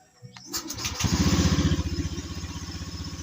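A Honda Beat FI scooter with a defective sidestand switch cranks briefly with the stand down, catches, and settles into a loud, steady idle with a rapid putter, close by.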